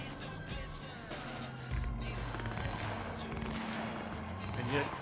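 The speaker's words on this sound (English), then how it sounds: "gunfire here is some random fight" Rapid bursts of gunfire crackle in the video game Cyberpunk 2077 over a steady engine-like rumble, with a voice speaking intermittently.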